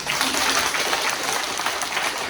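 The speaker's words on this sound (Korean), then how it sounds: "우리 목사님은 박수 하겠습니다." A Korean church congregation applauds their pastor during a revival service at a Dongdaemun church, with full, steady clapping from many hands that carries through the whole moment.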